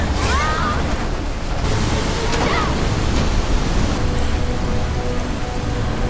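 A roaring waterfall and rushing water fill the scene with a dense, steady hiss and roar, a few faint chirps rising above the torrent.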